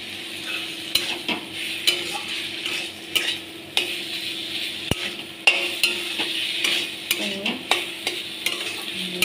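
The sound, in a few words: tomatoes being sautéed in a pan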